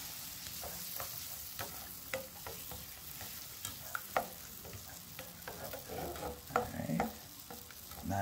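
Food cooks in a 10-inch Michaelangelo nonstick frying pan, giving a soft steady sizzle broken by frequent light taps and scrapes of a utensil stirring.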